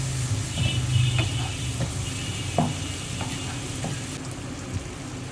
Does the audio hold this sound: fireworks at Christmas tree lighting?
no